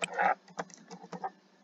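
Typing on a computer keyboard while naming a file in the Eclipse editor: a quick irregular run of close, crisp key clicks, one louder cluster at the start, no voices.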